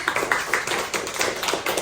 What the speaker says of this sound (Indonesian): Oke, beri tepuk tangan buat teman kita lagi.